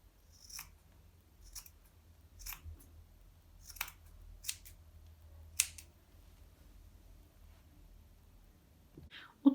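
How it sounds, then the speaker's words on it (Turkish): Several sharp scissor snips cutting cord, spaced irregularly over a quiet low hum, fairly close and moderately loud. "alt kısmını burada alt kısmını makasla e, yeteri kadar kısaltacağız"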